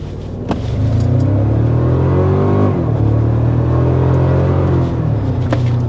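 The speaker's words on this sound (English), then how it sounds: "there is another little bit of an acceleration" A 2024 Toyota Tacoma TRD Pro hybrid truck accelerates on the road with a loud, close engine drone that rises in pitch, briefly dips as it shifts, then climbs again before easing off slightly downhill.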